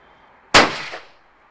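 A single loud shotgun blast goes off during a clay shooting lesson, a sharp close crack that decays into a short rumbling echo.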